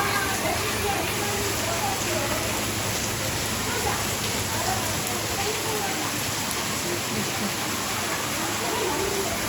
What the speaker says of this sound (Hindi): कल की तरह पूरी तेज बारिश है।